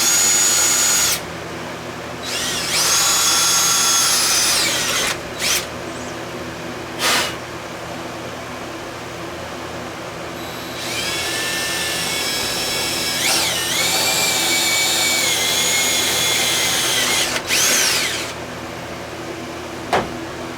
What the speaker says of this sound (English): We're gonna go ahead and drill some holes to lock it in.